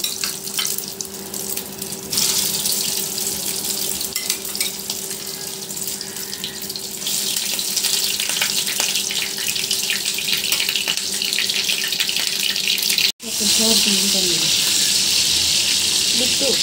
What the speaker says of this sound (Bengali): একটি একটি করে তেলে ভেজে নেওয়া হচ্ছে।